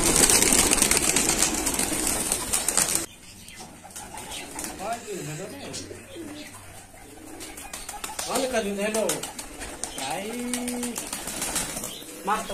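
Pigeons on a large loft farm coo in soft, rounded phrases at close range, with a burst of loud noise and wing-flapping at the start and some faint background murmur.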